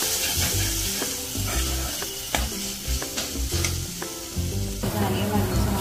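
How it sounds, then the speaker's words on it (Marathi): Spice tempering with turmeric sizzles and crackles in hot oil while being stirred, with steady frying hiss and repeated scraping knocks of a spoon against the pan, close and continuous. "चांगली खरपूस करते मी फोडणी"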